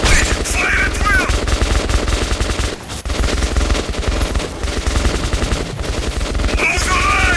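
Loud, sustained automatic gunfire in the Metro Redux shooter game: continuous rapid bursts from several weapons overlap into a dense, close barrage with only a brief lull midway.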